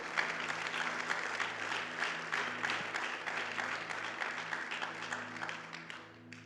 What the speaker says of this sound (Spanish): Démosle un aplauso fuerte al Dios de la gloria.